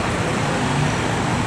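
Steady, loud roadway rumble of queued buses and traffic near a busy petrol station on an Indonesian highway, continuous and close with no distinct events.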